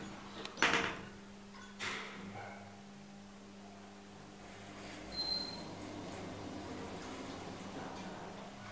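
Doors of a Kleemann machine-room-less traction elevator slide, with a sharp clunk near the start, another thud a moment later and a softer rumble midway against a quiet hum of the car.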